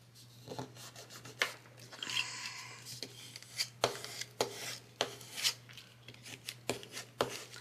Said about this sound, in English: Burnish those down.